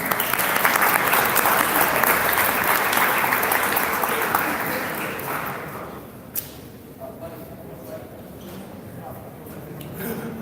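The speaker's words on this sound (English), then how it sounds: "Big round of applause." An audience at the Junction Tokyo 2019 pitch event claps in loud, sustained applause that fades after about six seconds into quieter room noise with scattered claps.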